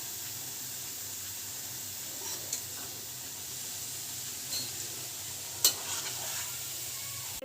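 Jackfruit pakoras frying in hot oil, a soft, steady sizzle and hiss with a few faint clinks of utensils against the pan.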